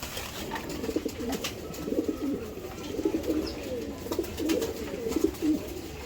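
Racing pigeons coo softly and repeatedly in a loft, a low murmuring chorus of several birds with no talk over it.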